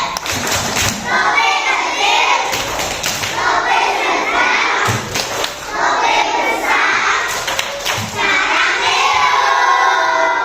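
Children in a classroom perform a 'tepuk lope' clapping chant together. Their loud, rhythmic claps come in repeated bursts with their voices chanting along and a few thumps between phrases.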